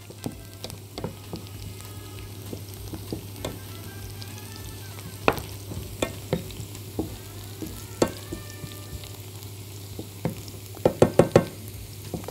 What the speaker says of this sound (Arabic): البصله اهي حمرها بس شويه